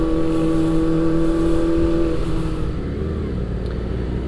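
A Kawasaki ZX25R sport motorcycle engine drones steadily with a sustained pitch while riding, then shifts and fades into rougher road noise as the bike moves along in commuter traffic.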